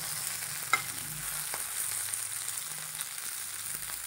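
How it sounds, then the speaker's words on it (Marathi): Stuffed okra frying in a pan over a low flame gives off a steady, soft sizzle and crackle, close by, with one brief clink near the start. "छान असं बारीक गॅसवरती आपण शिजवून देऊया"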